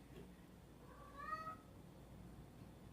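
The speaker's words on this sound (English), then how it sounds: "It won't be the first time they hear a cat in my video." A single faint indoor cat meow rises and falls just after one second, short and somewhat distant, against quiet room background with no talking.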